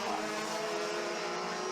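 A high-revving DD2 Masters racing kart engine whines steadily at Zwartkops circuit, a sustained tonal buzz at a fairly even pitch, moderately close and continuous through the short moment.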